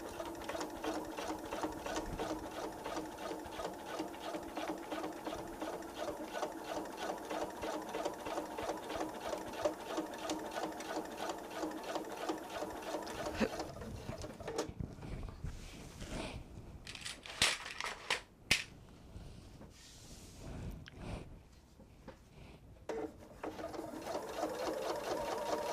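A sewing machine stitches through thick quilted fabric layers for a tote bag, a fast, close, rhythmic mechanical chatter that runs steadily for over ten seconds, then breaks into stop-start bursts and handling noises before resuming, with no speech.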